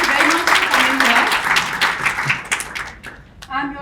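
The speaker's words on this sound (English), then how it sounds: "please give a very big round of applause for all of you" Conference audience applause with dense clapping, loud at first and thinning toward the end, with a voice cutting in near the close.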